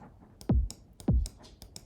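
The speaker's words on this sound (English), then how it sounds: "this is the core kick with a saturator, drum bass, and the EQ" Punchy techno kick drum processed with a saturator, drum bus and EQ in Ableton Live stock plugins, two heavy booming hits about half a second apart with a downward pitch sweep, alongside lighter clicky percussion ticks.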